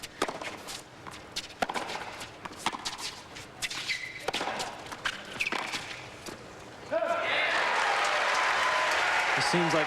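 A crowd at a Miami tennis match between Lapentti and Agassi in 2002, heard first as scattered footsteps and ball thumps under a commentator's voice, then breaking into loud, sustained applause and cheering near the end.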